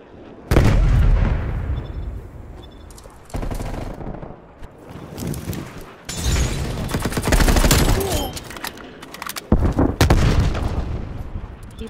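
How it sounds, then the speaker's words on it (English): Heavy grenade-launcher explosions in a shooter game, loud close blasts repeating over sustained gunfire and crackling debris, with someone talking in between. "that freaking grenade launcher thingy"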